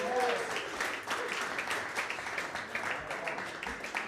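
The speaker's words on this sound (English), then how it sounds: "Start clapping right now for Munch, ladies and gentlemen." Comedy club audience applauding between acts, steady dense clapping with a few whoops from a live crowd, moderately loud throughout without any talk over it.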